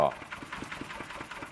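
A walking tractor's small Kubota engine idles with a steady, rapid chugging rhythm, close by and moderately loud.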